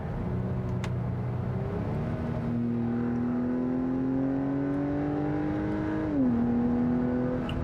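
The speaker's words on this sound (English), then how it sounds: "once the turbo does kick in, it does feel really quick" A turbocharged car with paddle shifters accelerates hard, its engine note climbing steadily in pitch for several seconds, then dropping briefly at a gear change before rising again, loud and continuous from inside the cabin.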